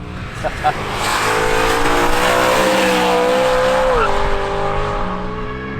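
A modified BMW E92 M3 Competition engine revs hard and steadily with a raspy exhaust roar, pitch climbing then dropping, loud and close, with some voices at the start.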